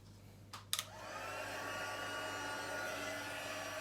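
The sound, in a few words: heat embossing tool heating card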